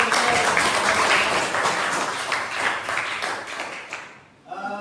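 Classroom applause, a burst of many students clapping together, steady and fairly loud, then fading out near the end as a voice begins to speak.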